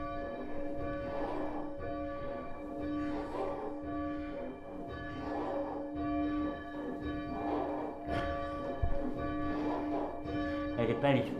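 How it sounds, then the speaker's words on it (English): A church bell is rung up from the down position, its tolling strokes repeating steadily and resonantly with a rich sustained hum, growing as the swing rises, with someone talking over it. "The bell is working its way up to the top of its limit now, see?"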